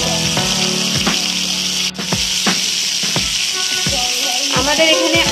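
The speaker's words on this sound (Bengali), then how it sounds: "আমাদের এখানে আলাদা করে আলুটা ভাজা হচ্ছে মাছের ঝোলের জন্য" Potatoes frying with salt and turmeric in a pan for a Bengali fish curry, a close sizzle broken by repeated scraping strokes of a spatula, with a faint voice now and then.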